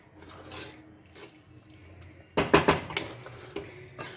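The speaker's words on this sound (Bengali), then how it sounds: "দিয়ে ভালো করে এটাকে আমি মিক্স করে নেব।" A metal spoon stirring a Malabar spinach stir-fry dressed with mustard oil in a pan off the heat, quiet soft scraping followed by a cluster of sharp clinks and knocks against the pan, with no talk.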